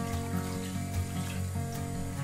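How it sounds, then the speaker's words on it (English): Fish stock poured into a big pan, a continuous liquid pouring and splashing sound, close and steady, with faint tonal hum underneath. "Okay, so I add all of the fish stock into here."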